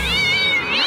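A cat attack in the video game South Park: The Stick of Truth: a loud, close, drawn-out yowling meow that rises and falls as a single continuous cry, with no talking over it.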